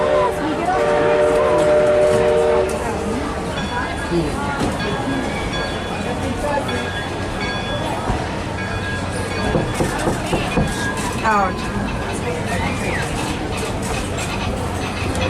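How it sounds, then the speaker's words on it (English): The Disneyland Railroad train rumbles and clatters steadily along the tracks, with a whistle sounding near the start and voices heard over the rolling noise. "To those just joining us, welcome aboard the Disneyland Railroad."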